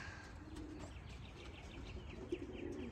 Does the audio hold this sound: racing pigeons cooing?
yes